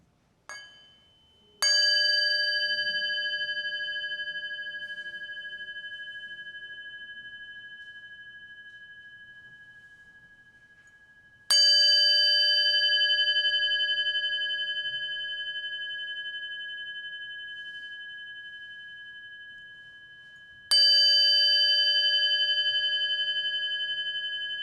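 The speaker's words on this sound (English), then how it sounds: "listen to the wonderful sound of this bell" A resonant bell at a World Day of Peace Sunday service struck three times about ten seconds apart, each clear ringing tone slowly decaying in a quiet room.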